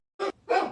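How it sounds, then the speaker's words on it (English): A dog barks twice in quick succession, riled up at someone outside; a short sharp bark followed by a longer, louder one, fairly close and alone with no talk. "My guess is from the sounds of it that it's a dog."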